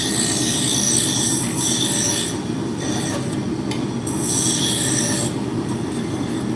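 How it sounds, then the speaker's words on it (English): A roughing gouge cuts a spinning wood blank on a lathe while shaping a drop spindle, giving a close, continuous rasping hiss over the motor's low drone, with brighter scraping surges during the cuts. "So now I'm going to bring it down to the biggest size with my roughing gouge."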